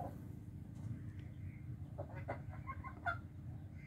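Hens on a farm cluck softly in short, scattered bursts, one sharper call standing out near the end, over a steady low background hum.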